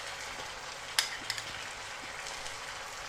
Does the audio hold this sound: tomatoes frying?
yes